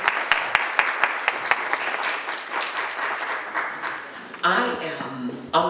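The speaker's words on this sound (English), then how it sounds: "you should give yourselves a round of applause for being here" Audience applause at a campaign event for a ward alderwoman candidate, opening with some sharp nearby claps over a broader crowd that fades to a softer patter, before a voice begins speaking near the end.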